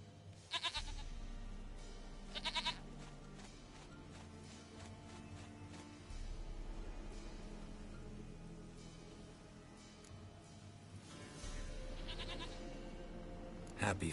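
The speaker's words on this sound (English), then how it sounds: "Goat of mine, dearest, sweetest goat." A goat in The Witcher 3: Wild Hunt bleats in several short wavering bursts near the start, around the middle and again near the end, each one laid over a continuous swelling orchestral score.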